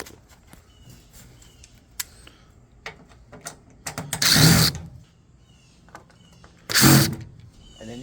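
Screws come out of the lid of an LG washing machine with scattered small clicks and ticks, then two loud whirring bursts from a power driver, close up and with no talking.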